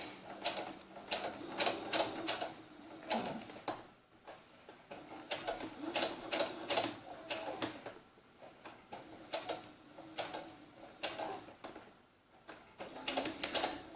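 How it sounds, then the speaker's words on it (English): A sewing machine stitching a doll's sunsuit, quiet rhythmic bursts of rapid needle chatter separated by short pauses, as if slowing around corners, with no speech. "let's go ahead and start sewing this"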